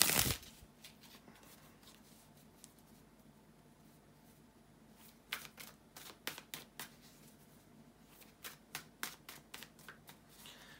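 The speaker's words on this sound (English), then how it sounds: "bear with me a second, guys, to shuffle the tarot cards" Tarot cards being shuffled in several quick bursts of crisp riffling clicks, close and fairly quiet, after a brief thump at the start.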